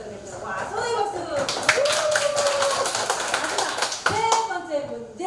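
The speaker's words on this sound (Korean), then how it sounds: "와, 손에 박수!" Elderly participants at a church senior school class clap in a loose burst of applause, steady and fairly close, with chatter and voices running underneath throughout.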